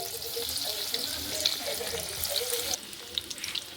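Breaded chicken cheese balls frying in hot oil over a medium flame: a steady, close crackling sizzle with small pops and bubbling, dipping slightly partway through.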